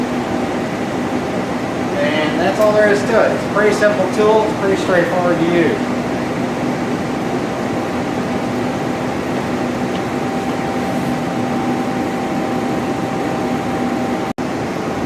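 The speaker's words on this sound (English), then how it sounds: "vacuum pump and chiller" A reactive ion etching tool's vacuum pump and chiller run together as a steady, loud mechanical drone with a constant hum, while someone talks over it early on and then the machinery continues alone.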